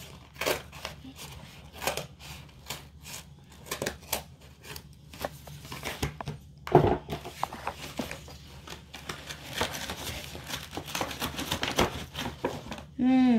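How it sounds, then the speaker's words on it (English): A package being cut open indoors, with irregular sharp cutting and rustling bursts scattered through the clip and brief tearing sounds, while a person talks intermittently nearby. "Cutting it open now"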